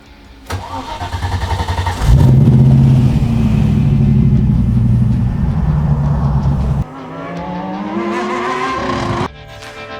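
A Mini Cooper S engine cranks and catches, settling into a loud, steady idle nearby, then drops and rises again in a short rev before cutting off.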